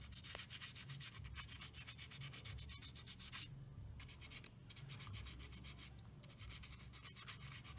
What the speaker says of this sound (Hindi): धीरे धीरे क्लच शूज़ को रब करके उसको हम साफ कर लेंगे।